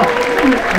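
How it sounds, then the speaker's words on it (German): Applause from a crowd at the Daun fair (Dauner Kirmes) fills a brief stretch, steady and fairly loud, with a voice rising through it. "Besonderer Applaus."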